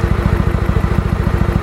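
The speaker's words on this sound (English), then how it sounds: "make sure it's on run, and then hit the starter" A 2001 Kawasaki W650 motorcycle engine idles loud and close, a fast even chain of low thumping firing pulses that stays steady and uninterrupted.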